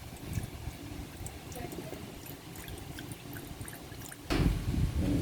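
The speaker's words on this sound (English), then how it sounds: "So let's pour milk into your glass jar." Fresh full cream milk is poured into a glass jar, a low gurgling stream that grows suddenly louder and fuller near the end, with some background noise alongside.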